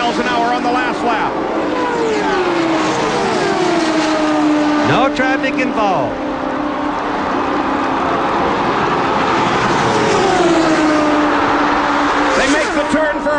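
IndyCar race cars roaring down the backstretch at about 223 mph on the last lap, loud high engine whines sweeping past in Doppler passes under steady excited commentary.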